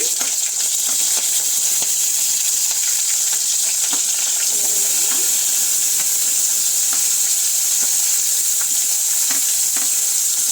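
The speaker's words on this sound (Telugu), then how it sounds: "కరివేపాకు వేసి వేయించుకోవాలి." Green chillies and curry leaves fry in hot oil for a cauliflower curry, a loud, continuous sizzle with scattered crackles and light stirring throughout.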